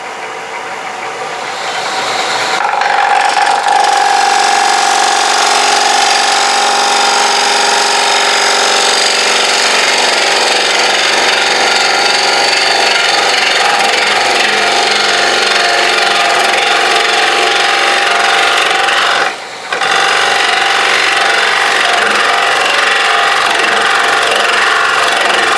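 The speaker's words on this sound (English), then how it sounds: "So I'm going to cut the wood from here to here." A wood-turning lathe cuts a wooden platter blank with a tool, starting after a short quiet lead-in and then holding a loud, continuous, rough scraping whine, broken once by a brief pause near the end.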